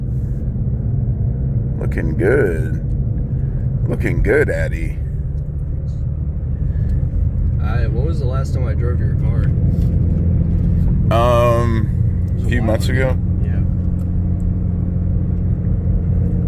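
A Ford Mustang GT350 engine rumbles steadily under acceleration from inside the car, loud and continuous beneath people talking throughout.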